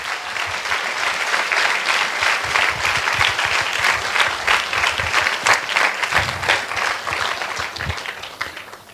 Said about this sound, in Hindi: कम ऑन, इस वर्ड के लिए ताली बजाएंगे।